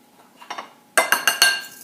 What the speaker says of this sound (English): Kind of stir that all up.